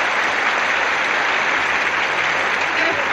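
Tennis crowd applauding a volley at a 1971 US Open second-round ladies' singles match, dense sustained clapping from a large stadium audience, loud and unbroken throughout.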